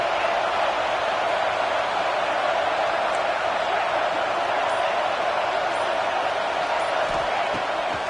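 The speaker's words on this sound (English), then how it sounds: "The Tide crowd rolling noise down on the Saban field on 3rd down." A packed college football stadium crowd at the Iron Bowl roars continuously on third down, a dense, steady wall of noise filling the whole moment without letup.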